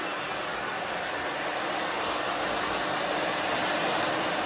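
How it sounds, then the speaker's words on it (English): A hair dryer blows with a loud, steady whooshing roar throughout, close by and unbroken, with no voices. "You can see I'm just moving my hands back and forth, the blow dryer back and forth."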